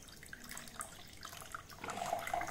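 Vinegar is poured into a cup for a kids' baking soda science experiment. A soft, close liquid trickle and splash grows louder toward the end, with no talking.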